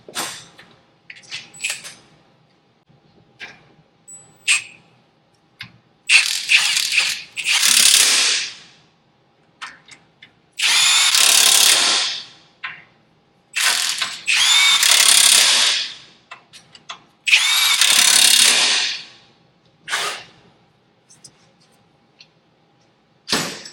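Bursts from a power ratchet zipping down control arm bolts during a car build, several loud whirring runs of a few seconds each separated by short pauses, close up with small clanks in between.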